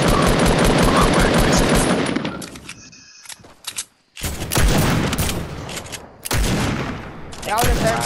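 Rapid automatic gunfire in the Fortnite video game, with loud dense bursts broken by short pauses and a few quieter gaps. A faint voice comes through between the volleys.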